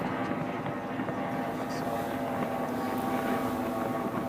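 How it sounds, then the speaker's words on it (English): Racing speedboats roar at the St George Speedboat Spectacular mono final, a dense, steady engine drone holding level throughout with no break. "So it is Hunten gets the nose up in front, and Mojo Racing on the outside."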